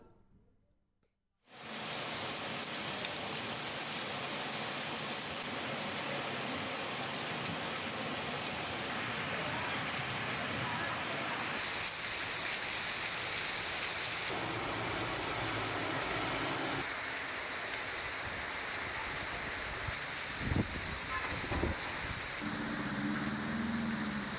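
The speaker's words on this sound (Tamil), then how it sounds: "சுமார் ஒரு மணி நேரம் கனமழை பெய்தது" Heavy summer rain pours down steadily in Anthiyur, Erode, Tamil Nadu, making a dense, continuous hiss that starts abruptly and then holds loud for over twenty seconds. Occasional heavier splashes and drips come through, and no voices are heard.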